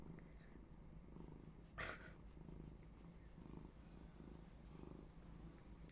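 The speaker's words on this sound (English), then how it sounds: "Can you hear my cat purring?" A pet cat purrs with a soft, steady low rumble close by, under a quiet background hiss, broken once by a brief rustle.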